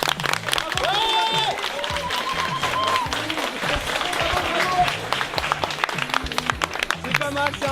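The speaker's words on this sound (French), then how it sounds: "On va tous applaudir et le but c'est que tout le monde dans la cantine applaudisse après." Students in a school canteen break into loud, dense applause, a continuous wash of many hands clapping close by, with scattered cheers and voices mixed in.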